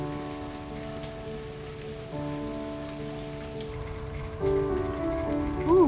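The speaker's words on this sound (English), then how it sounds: "when we get rain." Rain falls on a soaked garden as a soft, constant patter, with steady tonal hum in the background and a rising whine near the end.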